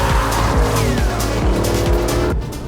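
A 380-horsepower Aston Martin sports car accelerates hard on a smooth tarmac B road, its engine loud and close, rising through the revs with a gear change before dropping off near the end.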